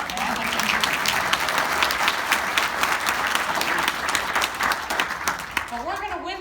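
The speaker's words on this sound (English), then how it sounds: "let's clap for that" A crowd at a political campaign speech in Livonia, Michigan breaks into lively applause, loud dense clapping with some cheering, and a voice begins speaking again as it fades at the end.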